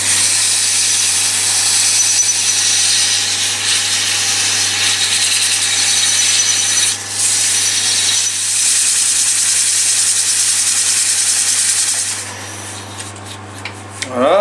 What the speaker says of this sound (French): on va donner un petit coup de ponçage